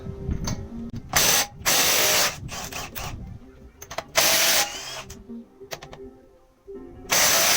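A ratchet works on a wheel of a Mini Cooper R50, coming in several loud, close bursts of rapid clicking separated by quieter pauses of handling.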